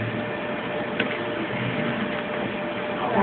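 A drawing robot moves its arm, producing a steady mechanical whirring hum that runs continuously throughout, fairly loud and close, with a faint click near the middle and no talking.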